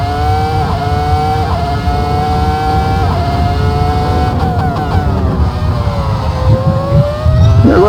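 A Ferrari V10 race car screams at around 19,000 RPM during a fast virtual reality lap, loud and close, with a continuous high-pitched engine note that shifts pitch between gears.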